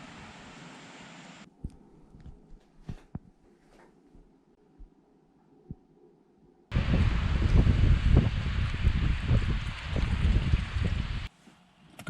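Wind buffets the microphone in rough, low rumbling gusts on a wet morning, loudest in one long blast, with quieter outdoor stretches before and after.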